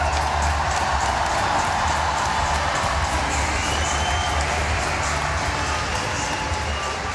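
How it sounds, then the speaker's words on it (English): A crowd at the Schroders Battle of the Brits tennis event applauds and cheers for Team Scotland, a dense, continuous wash of clapping and shouts that stays loud throughout. "Let's make some noise. Let's hear it for Team Scotland."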